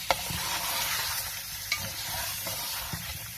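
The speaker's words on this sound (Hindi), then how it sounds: "अब हम इसे तेज आंच पर भून लेंगे।" Softened tomato slices and mutton are stir-fried in a pot over high heat, a close scraping stir with soft sizzling and a few sharp clicks of the spoon, and no talking.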